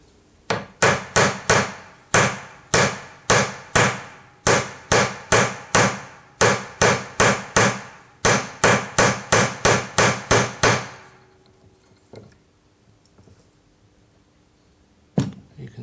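Metal is struck on an anvil again and again, around two dozen loud ringing hammer blows in an even rhythm, then quiet with a few faint knocks.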